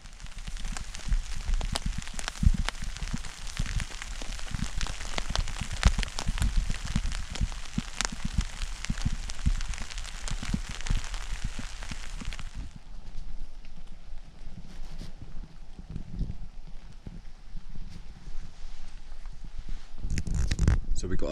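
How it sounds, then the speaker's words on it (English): Rain pattering steadily on a Dutch army canvas tent through an overnight stay, a dense continuous patter that eases off partway through and then picks up again near the end. "So it's just started raining."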